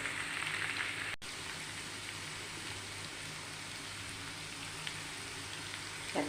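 Pickle ingredients frying in oil give a soft, continuous sizzle and crackle, faint and even, with a small click near the start.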